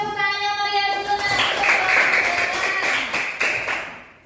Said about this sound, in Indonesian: Kita beri tepuk tangan yang meriah dulu nak.